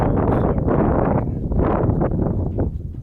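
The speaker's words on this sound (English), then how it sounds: "it's a little windy out here." Strong wind buffets the microphone outdoors in loud, gusting rushes that swell and fade throughout.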